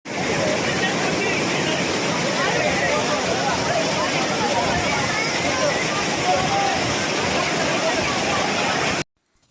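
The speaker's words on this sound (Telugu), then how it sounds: "మనం నడుస్తుంటే వాటర్ సౌండ్ మనకు వినబడుతుంది." Vibhuti waterfall near Murudeshwar and Honnavar, with water pouring down from a great height, makes a steady, dense, loud rushing roar that holds unbroken for about nine seconds before cutting off abruptly.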